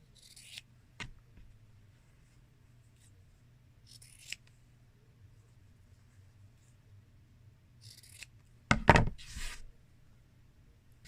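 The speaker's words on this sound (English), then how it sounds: "So just about 1/4 of an inch away, trim off all the excess." Scissors trim excess fabric from a small microwave bowl cozy, a few faint snips early on, then a louder close cluster of cuts near the end, with no talking.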